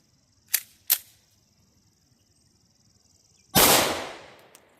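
5.7x28 FN rounds are fired over a chronograph: two sharp cracks in quick succession, then a louder blast with a decaying tail after a pause, close and outdoors with no talking.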